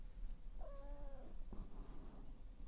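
A house cat meows once in a drawn-out, wavering call indoors, followed by a few soft clicks and rustles in an otherwise quiet room.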